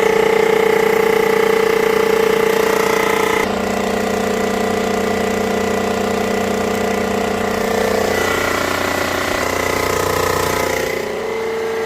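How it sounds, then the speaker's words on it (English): A cylinder hone grinds inside a 5.7 Hemi engine block in a machine shop, a loud, steady mechanical drone with a droning hum that shifts in tone twice as the feed changes, running continuously with no talk. "Okay, the hone shut off."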